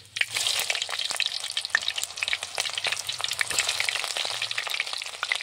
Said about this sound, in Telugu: తరిగి పెట్టుకున్న ఎర్రగడ్డ ముక్కలు వేస్తున్నా.